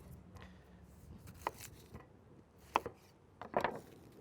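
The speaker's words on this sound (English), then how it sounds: "We're gonna slice the onion" A knife slices an onion in a quiet kitchen with a few faint, sharp cuts spaced irregularly, three or four crisp strokes against a board over a low, soft background.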